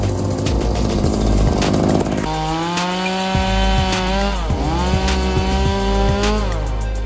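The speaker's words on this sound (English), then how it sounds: "the RYOBI 16-inch two-cycle gas chainsaw" A Ryobi 16-inch two-stroke gas chainsaw roars close by, its engine revving up and dropping back in repeated surges over steady mechanical noise.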